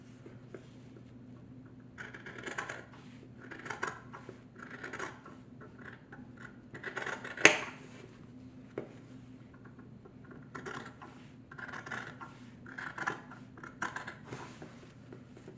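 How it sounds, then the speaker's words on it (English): Fabric for a small coin pouch is snipped with scissors in a run of soft, rhythmic crunching cuts, close and quiet over a low steady hum, pausing once before a second series of snips. "And then what I'm going to do is I'm going to just cut this piece out."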